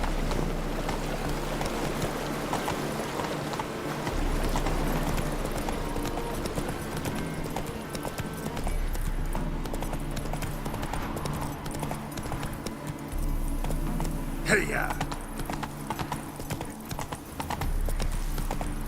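Roach, the horse in the video game Witcher 3, gallops in a steady, fast clip-clop of hooves that runs throughout over a constant backdrop of wind and game ambience, with no talking.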